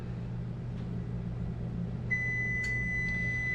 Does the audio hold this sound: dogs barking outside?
no